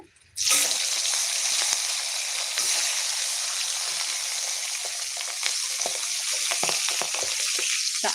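Small hilsa fish sizzle and crackle steadily in hot oil in a pan, a loud, continuous close-up fry that starts abruptly and carries on with scattered pops and spatters, no talking over it.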